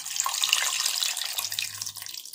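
Tamarind juice, soaked in water and strained, pours steadily into a pot of Rayalaseema-style fish curry, a continuous close splashing trickle with no voices over it.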